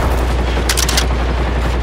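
A quick cluster of four or five gunshots fired at a hunter robot in Generation Zero, loud and crackling over a constant heavy rumble of ambient noise.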